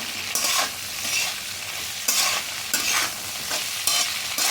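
Yardlong beans and half-boiled potatoes frying in a pan keep up a steady sizzle, broken by repeated scraping strokes of a spatula stirring them roughly every second, close up and with no talking.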